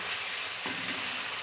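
Okra sautés with salt in a hot pan for a tamarind curry, giving a continuous bright hiss of frying with one soft stirring scrape midway, close and without speech.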